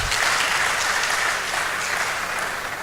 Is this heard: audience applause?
yes